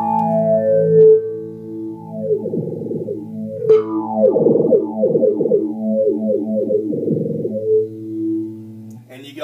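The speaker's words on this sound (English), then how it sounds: "The phase shifter, it is neat and it makes a cool sound and cool effects, but it's so loud with a distortion pedal" Boss phase shifter pedal run with a distortion pedal on a PB-1000, giving loud, swirling sustained guitar notes and chords that phase and shift throughout, close and continuous.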